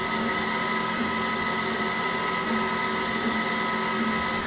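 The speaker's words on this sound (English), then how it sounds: "it cuts the test pattern, which looks like it's going to be the Creality Falcon F" A Creality Falcon laser cutter cutting a test pattern gives a steady, loud whir and hum that runs unbroken throughout, with no talking.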